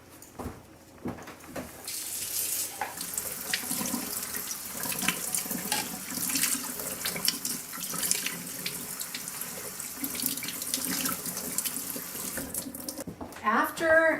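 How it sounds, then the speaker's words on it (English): Strawberries are rinsed in a colander under a running kitchen tap, a steady splashing hiss of water that continues throughout with bursts and clatters, close and fairly loud. "And then you're going to rinse these really"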